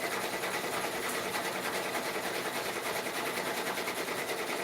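A 10-needle embroidery machine stitches steadily at close range, a fast, even mechanical chatter with a rapid repetitive rhythm and no talk over it.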